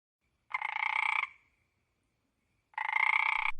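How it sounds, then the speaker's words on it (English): A frog gives two loud, close croaks, each a sustained rasping call under a second long, separated by a short silence and heard alone. "Look, Naya, there's a frog."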